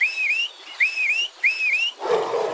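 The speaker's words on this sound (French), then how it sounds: "Laisse-moi siffler 3 fois." A man whistles three times in a row, each a rising-then-dipping two-part whistle, clear and close, followed by a brief burst of rustling noise.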